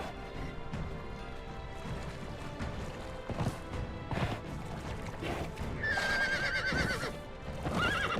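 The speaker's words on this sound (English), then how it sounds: "My horse, out of all times, refuses to teleport and is just stuck in the water." A video game horse stuck in water neighs and whinnies repeatedly, mixed with hoof clatter and splashy knocks, loud and close with no talking.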